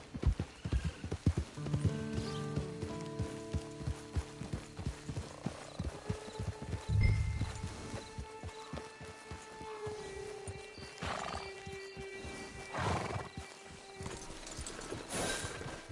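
Hooves clip-clop in a quick galloping rhythm in Red Dead Redemption 2, with a horse's whinny and snorts rising over a wide outdoor ambience.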